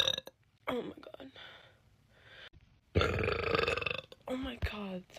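Deep, drawn-out burps from a woman, several loud rumbling belches in a row separated by short pauses, close to the microphone, with brief talking between them.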